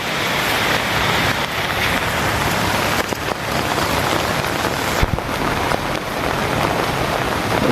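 Heavy rain pours down in a steady, dense hiss across the whole stretch, close and loud, during flooding, with a few faint knocks under the downpour.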